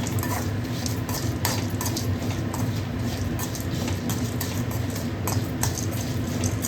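Cumin seeds and black pepper dry-roast in a pan for chicken rasam, a utensil scraping and stirring them in steady, repeated strokes with faint crackling, close up and continuous.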